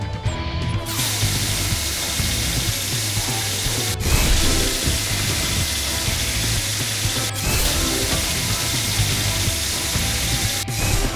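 A power drill in the PAW Patrol video game whirs steadily and loudly for about eleven seconds, with brief breaks that sound like repeated button presses and no talking.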